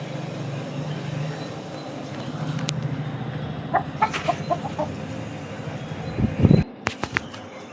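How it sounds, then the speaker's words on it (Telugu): Chicken clucking in a short burst of close calls near the middle, over steady low outdoor rumble with a louder knock and rustle toward the end. "నాదే ఆ కోడి."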